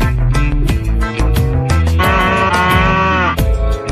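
A very large mother cow moos loudly and close, a long drawn-out bovine call with rising and falling pitch, alone with no talk.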